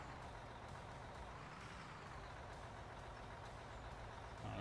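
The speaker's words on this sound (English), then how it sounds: "practicing my professional parking haul trucks" Steady low rumble of a haul truck engine reversing in the video game Out of Ore, continuous and fairly distant, with no voices and a slight swell at the end.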